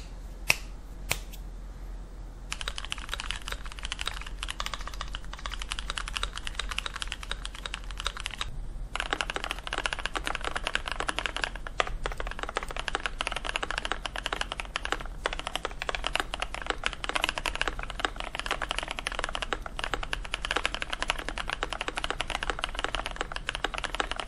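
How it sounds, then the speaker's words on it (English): Rapid, steady clacking of an Inland MK Pro 75% mechanical keyboard, close and continuous, with a few isolated key presses before the fast typing begins. "let's just assemble this keyboard and check out the sound"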